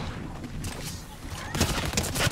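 Rapid bursts of SMG fire in Fortnite Chapter 4 Season 1, with a dense rattling volley breaking out near the end over game noise.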